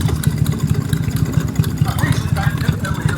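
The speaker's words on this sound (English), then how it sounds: "Pumping engine." A stationary pumping engine at a tractor festival runs with a steady, rapid chuffing beat, close and fairly loud, with faint background chatter.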